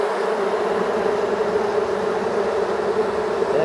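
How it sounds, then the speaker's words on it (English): A dense, loud hum of many honeybees buzzing together in a hive fills the whole stretch, a steady droning roar up close with no talking. "That is a roaring hive."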